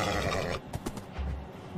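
A Minecraft horse gives a brief, fairly faint whinny of a few quick pulses right after a burst of noisy game sound, with no talking.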